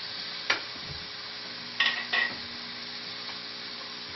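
Tofu and sweet potato leaves in oyster sauce stirred in a pan, a soft continuous sizzle broken by three or four brief scrapes and clinks of the spoon, no voices.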